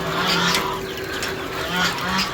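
Ducks and chickens in a rooftop shed give a few nasal, honking calls over a low background hum, with two short bursts near the start and the end.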